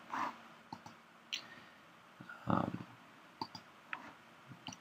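Computer mouse clicks, several short sharp taps spread out and fairly close, with other faint desk noises between them.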